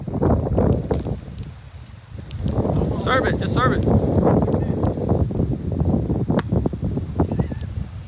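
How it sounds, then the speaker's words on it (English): Gusty wind roars and buffets the microphone while people talk and call out outdoors on Spectacle Island in Boston Harbor. "it's so windy"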